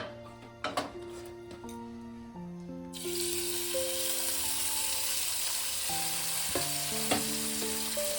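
Small chela fish dropped into hot oil in a frying pan, starting a loud, steady, bright sizzle that continues to the end, with light clinks and stirring sounds under a faint background tone.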